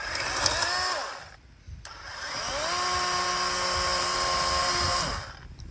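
A small power saw whines at high pitch while cutting, pausing briefly and then revving back up for a long steady cut before winding down.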